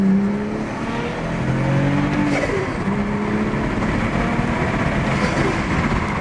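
A BMW 435i with an N55 engine revs hard and pulls, a loud sustained roar with rising tones as it accelerates, heard from inside the car.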